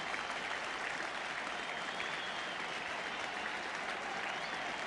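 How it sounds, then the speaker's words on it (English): A cricket crowd gives a standing ovation, a dense, continuous wash of clapping heard from a distance, fairly quiet and unbroken. "Getting a standing ovation."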